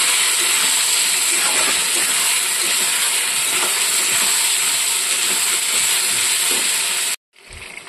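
Fried potatoes and spices sauté in a hot pan, giving a dense, continuous hiss and sizzle that cuts off abruptly near the end.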